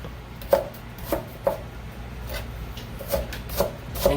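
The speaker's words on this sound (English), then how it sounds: "I'm gonna just chop up this onion." A knife chops through an onion on a cutting board, giving about eight crisp, evenly spaced taps close by, with no talking.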